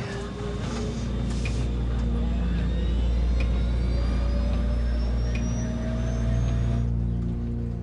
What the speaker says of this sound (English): While the plane is speeding down the runway